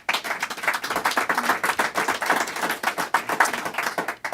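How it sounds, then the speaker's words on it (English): A crowd at a hospital announcement gives a round of applause, brisk scattered clapping near and fairly loud, continuing throughout without speech. "I think you all deserve a big round of applause"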